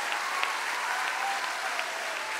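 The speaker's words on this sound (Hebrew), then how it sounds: "ועכשיו, במחיאות כפיים" An audience applauding at a comedy show's closing party, steady dense clapping that fills the hall evenly without a break, loud and close, with no voices over it.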